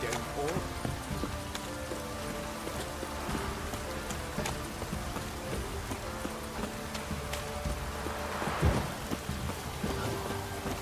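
Steady heavy rain in The Witcher 3: Wild Hunt pours throughout with dense broadband hiss, a low rumble, and faint game sounds and voices mixed underneath.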